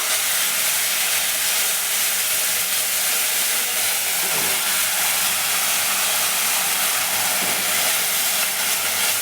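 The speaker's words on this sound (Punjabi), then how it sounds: "ਨਾਲ ਹੀ ਪਾ ਦਵਾਂਗੇ ਆਪਾਂ ਜਿਹੜਾ ਪੀਸ ਕੇ ਰੱਖਿਆ ਸੀ ਮਸਾਲਾ" Ground masala added to hot oil with crackling cumin in a kadhai, a loud, steady, close sizzle and hiss that runs unbroken throughout.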